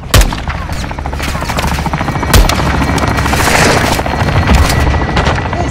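Helicopter gunfire strafing a building in Call of Duty Modern Warfare 2: a dense, sustained barrage of booming shots and rapid bursts over a constant rotor-like rumble, loud and close throughout, with a heavy impact near the start.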